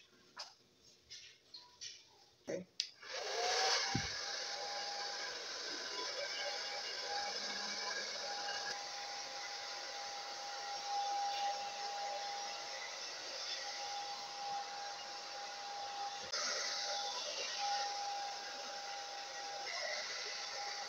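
After a few clicks, a hair dryer switches on and runs with a steady whooshing hum, close and continuous, drying dyed hair, with a slight change in pitch partway through.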